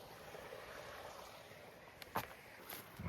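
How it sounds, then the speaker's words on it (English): Water in a stream flows in a Washington rainforest during light rain, a faint, steady wash heard from a distance, with a few brief knocks and rustles near the end. "Oh, you can hear the water now."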